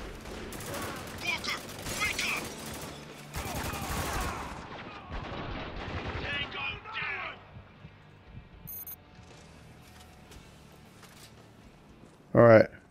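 A shotgun fires in the video game Spec Ops The Line: loud gunfire in clustered bursts during the first seven seconds, then sparser, quieter shots, with someone talking over the action.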